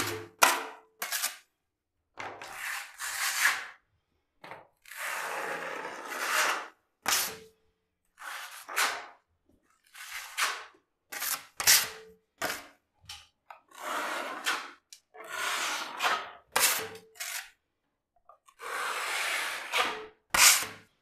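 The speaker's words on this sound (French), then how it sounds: "Donc là, hop, je mets bien l'enduit." A filling knife spreads plaster filler over reinforcing mesh on a cracked ceiling, making short, irregular scraping and rubbing strokes in close, repeated bursts separated by brief pauses, with no talking.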